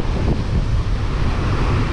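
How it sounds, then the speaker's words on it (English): Heavy wind buffets the microphone at a Durban beach during shad fishing, a steady loud rumbling roar with surf-like wash running continuously throughout, no voices. "Wind's very, very heavy."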